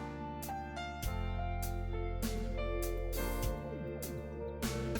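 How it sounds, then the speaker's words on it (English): A minute repeater in a luxury wristwatch chimes the time in bell-like metallic strikes, ringing tones layered and overlapping in a steady sequence with long decays, close and clear with no voices. "That's the sound of a minute repeater, which is a feature on some models."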